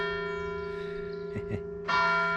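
Saint-Émilion church bell ringing, its sustained tone lingering with a steady hum before a fresh, louder strike near the end; the strikes are close and clear with no talking.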